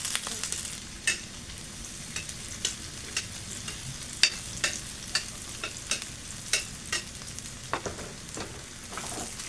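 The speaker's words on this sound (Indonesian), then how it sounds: "Bawang putihnya kita oseng dulu." Garlic stir-fries in a pan over steady crackling sizzle, with repeated sharp spatula scrapes and clicks every half second or so, close and fairly quiet.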